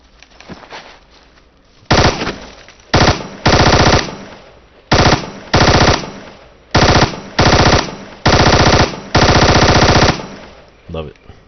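Bursts of M249 machine gun fire in the Ghost Recon shooter game, eight or so sharp sustained volleys of rapid rounds separated by short pauses, loud and close.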